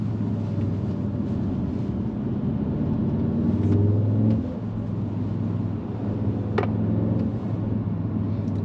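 A 2022 Audi S3 with quad-tip exhaust drives on a Colorado mountain road in sport transmission mode, its engine a steady low rumble with a brief swell of revving midway, heard from inside the cabin with no talking.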